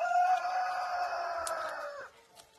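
A rooster crowing close by on a snowy day, a single loud, drawn-out crow lasting about two seconds that trails off at the end.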